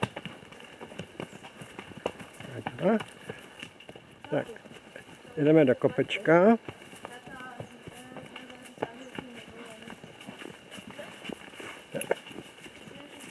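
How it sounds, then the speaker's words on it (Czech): Horses on a riding outing climbing a hill through a forest, hooves clip-clopping in an uneven walking rhythm, close by, while riders talk over and between the steps. "Paní instruktorka jede vpředu na koni."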